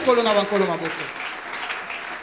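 A church congregation breaks into applause and cheering, the broad clapping noise rising under a preacher's voice and then carrying on as a steady wash in the hall.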